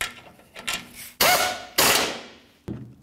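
Ratchet tightening the rear radiator bolts on a 2004-2015 Nissan Titan, heard as several close, sharp mechanical clicks and clunks in short, uneven bursts.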